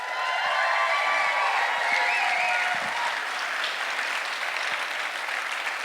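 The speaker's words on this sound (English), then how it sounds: "let's get a big round of applause for all of our speakers" A live audience at an Ignite Denver event applauds the speakers, with loud, steady clapping that fills the room and does not let up, plus a little faint crowd noise.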